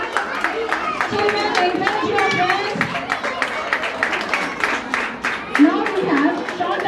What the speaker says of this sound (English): Give a clap for Sadhana Shri